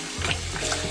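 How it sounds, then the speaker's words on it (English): Ice-cold water pours steadily over crappie fish fillets, a continuous close splashing rush like running tap water that lasts about a second with no voices. "it's ice cold water that I'm putting over it"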